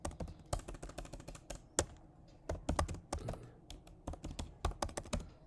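Rapid clicking keystrokes on a computer keyboard as an SQL create table command is typed, bursts of close taps with brief pauses between words.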